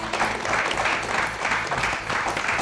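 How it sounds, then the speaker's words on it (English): Audience applause for a quiz show team, a short burst of steady clapping from a studio crowd, moderately loud and close, with no speech over it. "Let's have a big round of applause for them."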